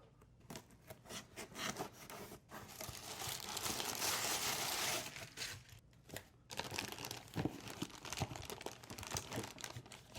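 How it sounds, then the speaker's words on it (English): Continuous crinkling and rustling of a plastic bag being handled close up while unboxing speedcubes, with irregular bursts and short pauses, quiet overall and no talking. "Wow, it comes in a plastic bag."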